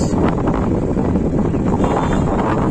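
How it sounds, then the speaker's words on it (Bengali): Strong wind buffets the microphone in a constant loud roar with rumbling gusts throughout, nothing else audible, on open fields near Mongla, Bangladesh. "বেশ বাতাস"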